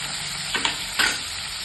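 Whole moong with kokum sautéed in a hot pan, a steady sizzle with two quick stirring scrapes of a spoon against the pan.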